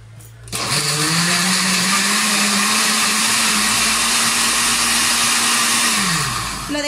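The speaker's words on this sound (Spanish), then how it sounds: "Vamos a llevar esto a la licuadora" A blender starts up and runs at a loud, steady whir, grinding a puree continuously for several seconds before winding down near the end.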